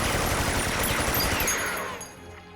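Soldiers open fire in an anime battle scene with a dense, continuous fusillade of rapid gunshots, loud and close, that runs for about two seconds before fading.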